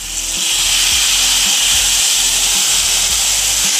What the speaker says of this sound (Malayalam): അതിലേക്ക് 2 ടേബിൾ സ്പൂൺ വിനാഗിരിയും ചേർത്ത് ഇളക്കി